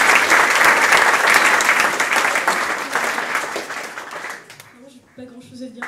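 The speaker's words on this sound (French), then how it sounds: "Je vous propose qu'on l'applaudisse encore." Loud, dense applause from the audience at the Quai des Bulles 2014 comics festival prize-giving, sustained for several seconds before fading out, with a voice starting to speak as it dies away.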